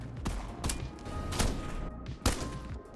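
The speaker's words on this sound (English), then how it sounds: "The guns in this game sound more mechanical or pressurized instead of being explosive sounding like a real gun." Video game guns firing with a mechanical, pressurized, metallic character like paintball or airsoft rather than explosive blasts; several sharp, separate shots ring out close over clattering mechanisms.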